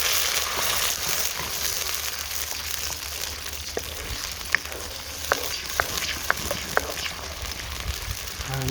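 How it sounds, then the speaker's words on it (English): Steady frying sizzle of tomato puree with ginger and garlic paste in a pan, moderately close, with a few light taps of a utensil stirring near the end. "And fry that off for a minute or two."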